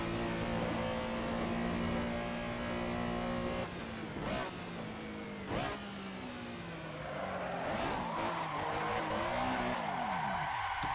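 A racing car in the driving game Assetto Corsa, run on a mountain touge road, skids and spins out. A loud, sustained engine drone gives way to screeching, squealing tires that sweep through a long slide, with no talk.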